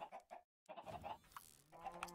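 Retextured Minecraft chickens cluck on an island in the game, with several short clucks in a row, then a brief silence and more clucking, close and clear.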